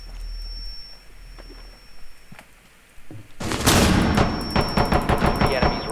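Gunfire erupts in a Rainbow Six Siege match, a dense burst of rapid shots and impacts that starts partway in and stays loud, following quieter stretches with sparse thuds and a steady tone.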